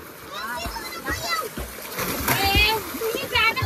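Water splashes in a pool as someone swims at a family farmhouse, with repeated close splashes and churning water under children's and adults' voices talking throughout.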